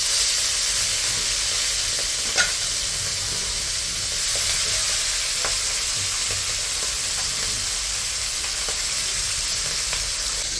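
Fish frying in a pan of hot oil, giving a steady, even sizzle and hiss throughout, with occasional small pops and spatter close by and no talking.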